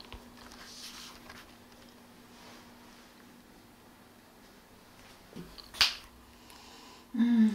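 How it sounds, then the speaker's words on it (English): A single sharp finger snap rings out close and clear near the end of a quiet room, followed by a brief rustle, with no one speaking during the stretch. "you'll remain frozen until I snap my fingers again"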